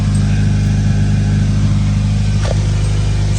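A 2013-19 Nissan Sentra engine idles steadily with a newly replaced muffler, a low, smooth and quiet drone that stays constant throughout with no revving.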